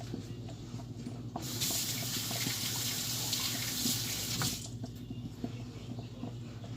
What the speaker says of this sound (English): So what I'm going to do is I'm going to wash my hands